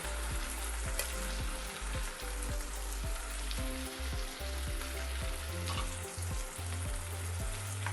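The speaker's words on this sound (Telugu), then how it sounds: "ఒక 5 నిమిషాలు వేయించాలి." Onion and cashew masala for methi malai paneer frying in a pan, a steady close sizzle with rhythmic scraping and stirring strokes throughout.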